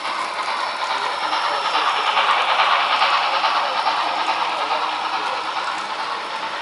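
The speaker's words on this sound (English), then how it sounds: "So what train we got coming along here, Tom?" A train rolls by steadily and close, with a continuous rumble and faint clickety-clack of wheels on the rails throughout.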